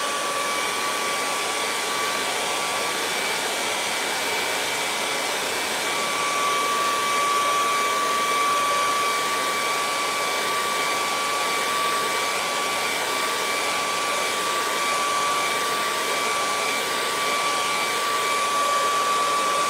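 A hair dryer blows steadily over acrylic paint on a mountain landscape canvas, a loud, constant airy whine with a fixed tone running unbroken for the whole stretch, with no voices over it.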